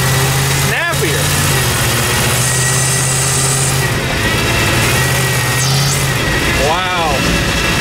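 An LS V8-swapped Humvee engine runs with a steady, loud, droning tone that swells as the throttle opens, constant throughout with a brief higher whine partway through.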